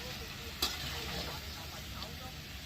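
Potatoes frying and being stirred in oil in a pan, a steady broad sizzle with one brief scrape, running continuously under a faint background hum.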